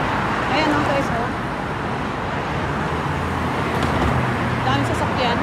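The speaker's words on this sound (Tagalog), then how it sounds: "Dami sasakyan." Heavy road traffic in Kuwait City, a steady wash of car and bus engines rolling past at moderate distance, with faint voices talking beneath the continuous roadway noise.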